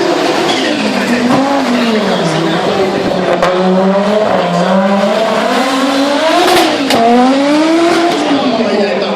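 An Audi Quattro S1 rally car at the Helsinki Battle event laps a chicane course, its engine note rising and falling continuously through gear changes and revs, loud and close, with a commentator talking over it.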